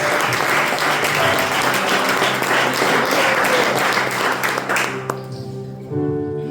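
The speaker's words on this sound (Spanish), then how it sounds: "Y toda esta congregación, con un fuerte aplauso, le da la bienvenida en el nombre de Jesús" A church congregation breaks into loud, sustained applause during a Sunday service, dense clapping that fades out near the end as music or voices begin to come through.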